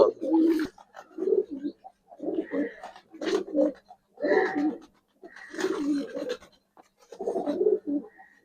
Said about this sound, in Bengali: সেই কবুতর গুলো আমি দেখাইতেছি আপনাদের